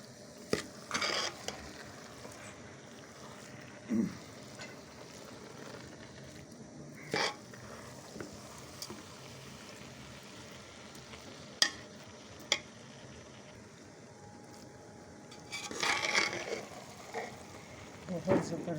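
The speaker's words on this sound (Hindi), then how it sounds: "ये देसी घी इसमें मेल्ट हो जाएगा" Grated carrots cook in melting frozen desi ghee for carrot halwa, giving soft intermittent stirring scrapes and faint sizzling with a few louder clatters near the end.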